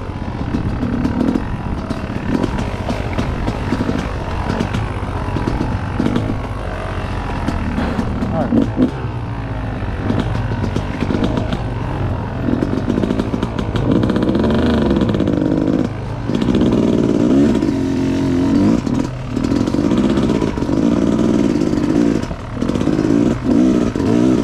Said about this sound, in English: let's see if I can ride a dirt bike.